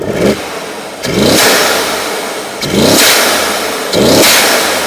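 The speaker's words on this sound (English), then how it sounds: "It has the aftermarket CTS intakes, which sound ballistic. Listen to this." A 2018 Mercedes-AMG E63 engine with aftermarket CTS intakes revs hard three or four times, each loud throaty surge rising then dropping back to a rumbling idle between bursts.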